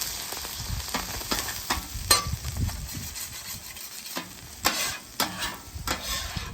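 A metal spatula scrapes residue off a hot Blackstone griddle, a few rough strokes and clanks against the steel top over a faint background sizzle, close and moderately loud with no talking.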